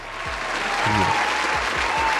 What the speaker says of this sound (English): Give her a round of applause for it